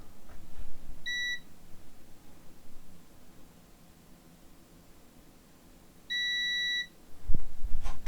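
Multimeter continuity tester on a damaged Acer Nitro 5 Spin laptop board gives two short electronic beeps, one early and one several seconds later, over faint background noise.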